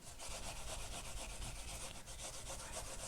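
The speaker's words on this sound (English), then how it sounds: "See what I said, it's easier to grate." Sweet potato is grated by hand for pudding, producing a continuous rhythmic rasping scrape, close and fairly even, repeating rapidly with no pauses.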